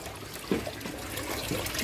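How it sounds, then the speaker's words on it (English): Water runs into a DIY aquaponics bell siphon with a steady, fairly quiet trickling and splashing flow, a couple of slightly stronger gurgles, and no talk. "the speed of the water coming in is nowhere near as hard as what it was"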